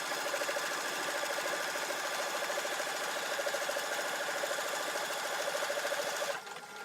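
A sewing machine runs steadily, stitching a drawstring bunny gift bag in one continuous close, loud whir with a fast rhythmic needle beat, dropping off just before the end.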